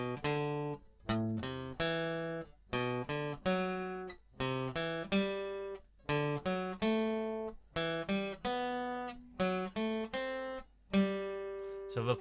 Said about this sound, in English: You'll hear the chords now.